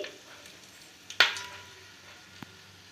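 Whole spices such as peppercorns, cinnamon and cardamom fry with bay leaf in hot oil for chicken biryani, making a faint, steady sizzle with a sharp clatter near the middle and a softer knock later.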